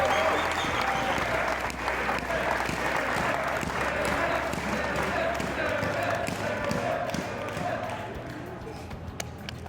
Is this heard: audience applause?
yes